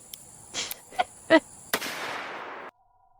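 A revolver fires a .454 Casull cartridge in one sharp, loud blast, preceded by a few smaller knocks and thuds, and followed by a long rushing decay that cuts off abruptly.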